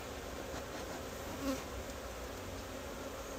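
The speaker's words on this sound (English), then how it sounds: "Knock these bees off." Honeybees buzz steadily around an open hive during a February inspection as frames are worked, a continuous close drone with one brief louder swell midway and no talk.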